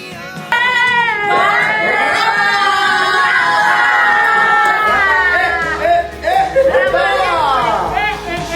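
Friends and relatives at someone's surprise baby shower shout and cheer together in loud, overlapping voices, with excited chatter continuing afterward.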